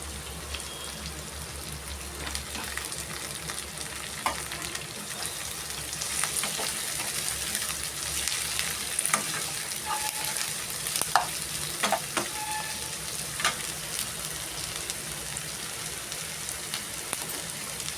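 Thinly sliced onions and curry leaves frying in a pan after cumin seeds, for a jackfruit masala curry, giving a soft steady crackle with scattered pops and spatters, close and without voices.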